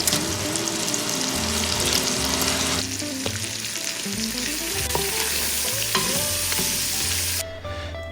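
Onions, garlic and jalapeno fry in rendered fat for frijoles charros, a loud, dense crackling sizzle that runs throughout, with a few clinks and stirring scrapes before quieting slightly near the end.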